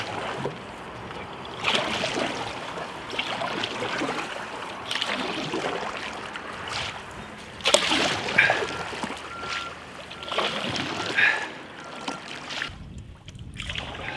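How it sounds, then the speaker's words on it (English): A wooden canoe is paddled along river water on the Norfolk Broads, with repeated soft splashes and drips from paddle strokes at a steady rhythm, close by and alone. "The next few kilometres were paddled with determination as my tired muscles battled to keep me going."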